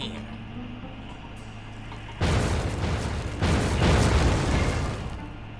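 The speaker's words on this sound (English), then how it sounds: "Throw your bomb right there." A bomb thrown at machinery in the game Oceanhorn goes off in a sudden loud, broad rumbling blast that swells again a second later before fading, following a quiet stretch of ambient game sound.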